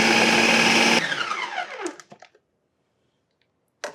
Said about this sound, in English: I'm just going to put it on the puree mode, so this will be loud for just a second.